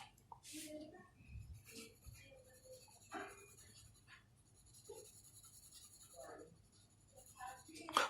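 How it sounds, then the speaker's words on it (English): Soft, close scratching of an HB pencil sketching and shading on paper for a still life, with intermittent strokes and light rustles through a quiet room. "Now I am starting from the HB pencil."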